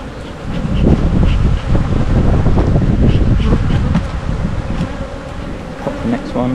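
Honeybees buzz loudly and continuously around an opened beehive with an emptied super, a dense close-up drone with wind buffeting the microphone and a voice speaking briefly over it.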